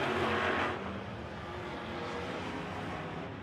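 Race cars roaring around an oval at Victory Lane Speedway during Saturday afternoon racing, a steady dense engine drone with one car passing loudly up close at the start.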